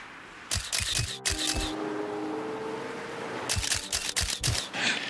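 A single-lens reflex camera fires in quick bursts of shutter clicks, two rapid volleys separated by a pause, loud and close over a low background hum.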